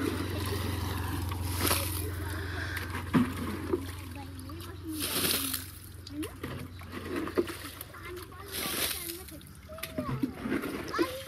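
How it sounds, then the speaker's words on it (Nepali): Water splashes as it is bailed out of a small boat, in repeated scoops and splatters with sloshing between them, while people talk quietly and a low engine-like drone hums underneath. "हामी त पानी फाल्दै गरौँ पानी बढ्यो कि"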